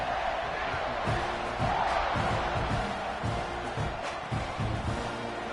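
A football stadium crowd roars continuously after a touchdown drive, a dense wall of cheering and shouting with swells and whoops, loud and enveloping throughout.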